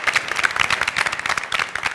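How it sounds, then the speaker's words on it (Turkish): A studio audience on a family game show claps briskly for a short burst, a lively, close patter of many hands. "Şu arkadaşlarımı bir alkışlayabilir miyiz ya?"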